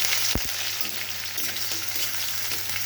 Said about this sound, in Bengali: রসুন লঙ্কা লাল লাল করে ভাজা হয়ে গেছে